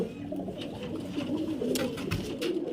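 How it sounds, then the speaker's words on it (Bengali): A female pigeon coos close by in soft, throaty, repeated rolling calls, with faint handling noise in the background. "এই যে ফ্রেন্ড দেখতে পাচ্ছেন এই একটা মাদি পায়রা"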